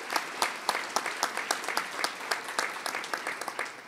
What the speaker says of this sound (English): a hearty round of applause